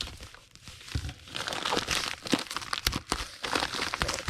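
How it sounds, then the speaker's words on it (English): Items slide into a priority padded envelope with close, uneven crinkling and rustling of plastic and padding, soft at first and growing busier, with sharp crackles scattered throughout. "So we'll just put these in a priority padded envelope."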